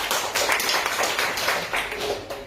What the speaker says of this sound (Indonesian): Kasih tepuk tangan buat Jenny.